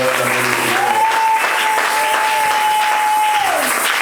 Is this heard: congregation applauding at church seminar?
yes